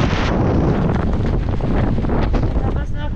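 Strong wind gusts buffet the microphone at an exposed camp in Iceland, a loud, dense roar with rustling surges throughout.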